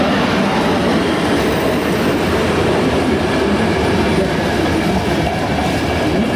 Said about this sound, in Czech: Osobní vlak číslo 5605 společnosti České dráhy.